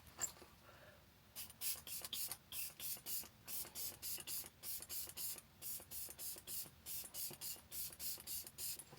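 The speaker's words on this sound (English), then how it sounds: "For setting spray, I'm going to use the Benefit Pore Professional Super Starter setting spray." A Benefit Pore Professional Super Starter setting spray is misted in a rapid string of about twenty short, airy pumps, steady and rhythmic, close to the microphone and fairly quiet, with no talking over them.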